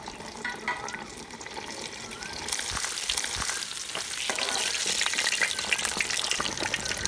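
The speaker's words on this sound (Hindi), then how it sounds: "इसी तरह से हम तकरीबन 4 से 5 मिनट एक साइड को फ्राई करेंगे" Fish fries in hot cooking oil for a masala fish fry, a steady close sizzle that grows louder and denser midway, with faint crackles and a brief watery clatter. No voices.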